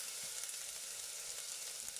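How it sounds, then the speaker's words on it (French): Garlic, ginger and chopped onion fry in a small pan of sunflower oil. They give a quiet, even sizzle that stays close and constant, with no voices. "Dans une casserole avec un petit peu d'huile de tournesol, je la fais chauffer et je fais revenir directement tous mes ingrédients"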